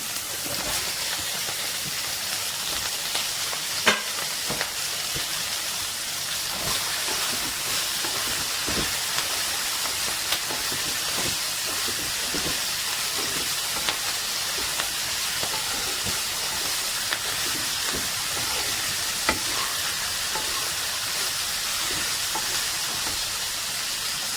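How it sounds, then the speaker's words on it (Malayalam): Small onions frying in a pan for a sardine chammanthi, a dense continuous hiss and sizzle with scattered tiny pops, steady and fairly loud. "ചെറിയ ഉള്ളി ഇട്ട് കൊടുക്കാം"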